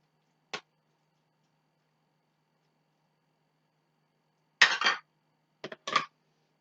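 Stirring food in a cooking pot: a few brief utensil clinks and scrapes, one isolated and then two short clusters, separated by near silence.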